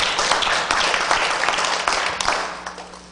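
Congregation clapping in a Korean church during a Wednesday worship service, a loud, sustained round of applause that holds steady and then gradually tapers toward the end, with a low hum beneath it.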